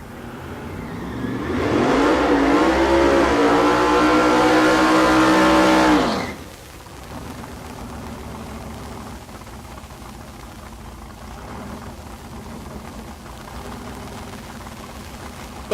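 Drag race cars launch side by side down the strip at Tulsa Raceway Park, one a G-body and one a naturally aspirated big block, in a roaring blast that builds and then cuts off, leaving a quieter distant rumble.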